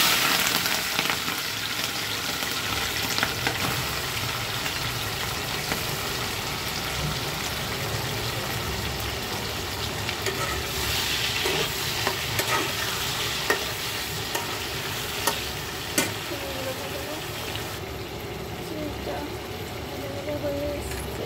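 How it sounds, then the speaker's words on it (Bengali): Prawns fry in a spiced masala of crushed garlic, yogurt, onion paste, salt, garam masala and sugar for a Bengali malai curry, with steady loud sizzling throughout and a spoon stirring and scraping the pan in scattered knocks. "এবারে চিংড়িগুলো দিয়ে দেবো।"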